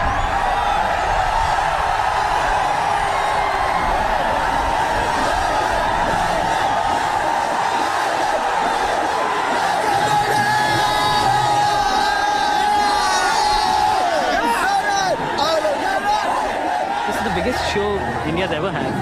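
A large crowd of Indian metal fans waits for a concert, a dense, loud, steady roar of chatter, shouts and whoops with no break.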